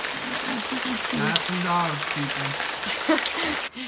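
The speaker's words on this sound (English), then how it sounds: "it's raining really hard outside" Heavy rain pours on the outside of a trailer, a dense continuous hiss drumming on the surface, while a person talks over it throughout.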